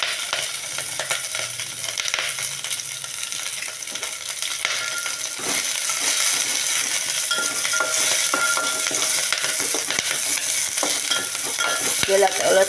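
Whole green chilies fry in a spoonful of oil for a pickle, a steady bright sizzle with scattered stirring clinks and scrapes, close and continuous throughout, growing slightly louder toward the end.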